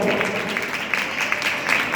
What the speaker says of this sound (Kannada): ರೇಚಲ್ ಸಿಸ್ಟರ್ಗೆ ನಾವೆಲ್ಲರೂ ಜೋರಾದ ಗಟ್ಟಿಯಾದ ಚಪ್ಪಾಳೆ ಕೊಡೋಣ